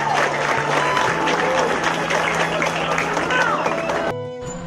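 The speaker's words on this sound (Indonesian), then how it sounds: "Tepuk tangan." A crowd applauding at a school event in a film trailer: sustained clapping with voices and a tonal background underneath, cutting off abruptly near the end.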